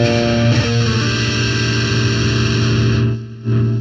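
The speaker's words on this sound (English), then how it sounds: "If you just played that chord" A sustained Lydian chord on distorted electric guitar rings out loud and steady, briefly cut off near the end before being struck again.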